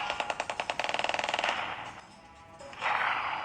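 Rapid bursts of video game gunfire in a mobile shooter, a fast rhythmic volley of shots that fades out, then a short loud burst of noise near the end.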